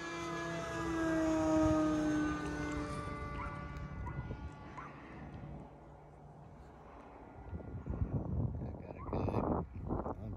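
FMS 2000mm Beaver V2 radio-controlled scale plane in flight, its motor whining loudly then sliding down in pitch as it passes and fades, with someone talking over the engine noise.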